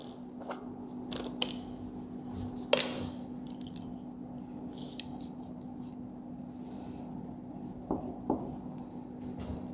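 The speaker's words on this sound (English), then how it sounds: "Let us draw that first." Drawing a table on a board during a maths lesson: scattered scratches, taps and strokes of the marker or chalk, one sharper knock near the middle, quiet and close over steady room hum, with no talking.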